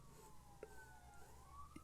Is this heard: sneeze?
no